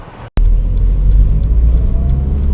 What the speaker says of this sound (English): Taking this 2018 QX30 Sport for a test drive.